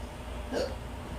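A single short hiccup from a person, faint and near, set against a steady low room hum with no talking.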